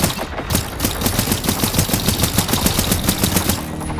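Rapid automatic gunfire from an experimental weapon in the video game Generation Zero, aimed at a robot: a steady, loud stream of evenly spaced shots lasting several seconds with no talk over it.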